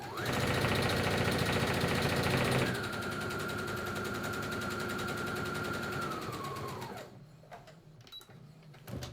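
A domestic sewing machine runs fast while stitching a fabric face mask seam, a loud rapid mechanical whir that drops in pitch and slows after a few seconds, then stops, followed by a few faint clicks.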